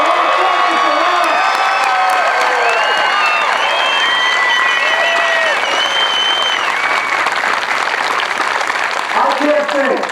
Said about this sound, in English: How about a big round of applause for the United States of America and our 4th of July?